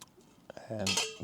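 A Teflon-coated frying pan clatters and scrapes briefly as a plastic knife knocks against it, a short burst of kitchen clinks close by at a wild camp.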